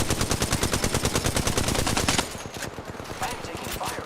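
Sustained rapid automatic gunfire in Apex Legends hammers for about two seconds, loud and close, then gives way to quieter game sounds.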